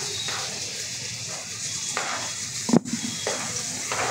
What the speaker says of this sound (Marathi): हा तो टोमॅटो घालत आहे त्यामध्ये।